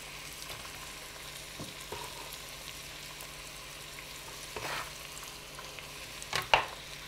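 Carrots and celery start to fry in oil for a rustic chicken soup, making a soft, steady sizzle with occasional stirring scrapes and a sharper clatter near the end, quiet and without voices.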